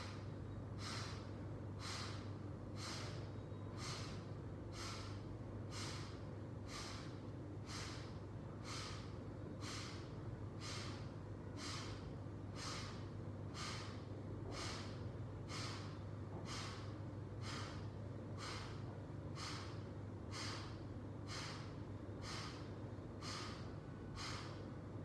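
Rapid, forceful nasal exhalations of a yoga breathing exercise, puffing in a fast, very regular rhythm, roughly one per second, with more than twenty sharp snorting bursts over a low steady hum.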